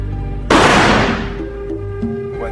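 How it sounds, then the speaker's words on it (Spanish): A single sharp, loud rifle shot fired outdoors about 1 metre from a horse cracks out and decays into a long ringing tail, with a faint hum and small clicks in the background. "El primer disparo, a 1 metro del caballo, hizo un gran estruendo"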